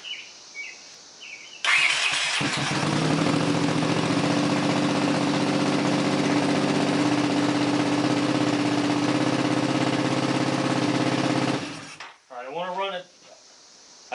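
A Honda CX500 motorcycle engine, carburetors primed and no coolant in it, catches and runs with a loud, steady roar for about ten seconds before cutting off. A voice follows briefly.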